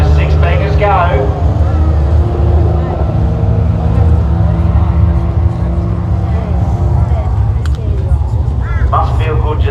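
Six-cylinder Dodge Charger drag race car revved hard at a Mopar Sunday event. The engine gives a loud, close, sustained growl that climbs in pitch near the end, with crowd noise around it.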